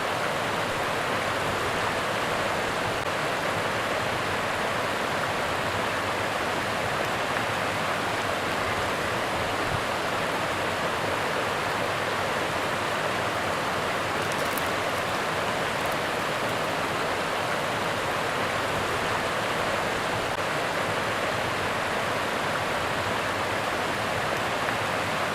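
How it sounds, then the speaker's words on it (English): Rushing water of the Guadalupe River in New Braunfels, Texas, heard from a riverside campsite, fills the scene with a steady, broad, close roar that never lets up. "The sounds of the rushing water was relaxing."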